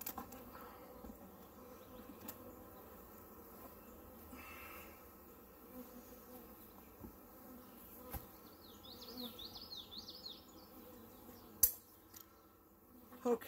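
Honeybee colony buzzing during a hive split, a faint steady hum with a few brief sharper flight buzzes drifting past close to the microphone, and a couple of clicks and knocks from handling the hive.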